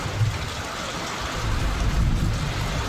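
Heavy rain from a severe storm, a dense steady roar with low rumbling gusts, loud and continuous with no voices.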